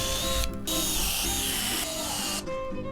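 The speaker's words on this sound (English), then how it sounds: "I just had to screw the top to the base. One screw near each corner." A cordless drill drives screws through a workbench top into a base built from pallets, whirring steadily and close with brief pauses as the bit grips and slips.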